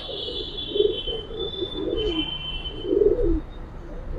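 A Giribaz pigeon coos softly and close up in several low, throaty bursts over a steady high hiss, with no voices.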